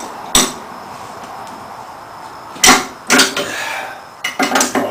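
Bolts are tightened on a homemade dual permanent magnet rotor wind turbine, making a sharp metallic clank, then a few clustered knocks and scraping clatters from hand tools on metal, close by with no talk.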